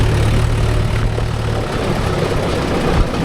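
Mahindra 575 DI tractor engine running through its silencer, a steady low droning rumble close by with a deep hum that drops away partway through, no talking.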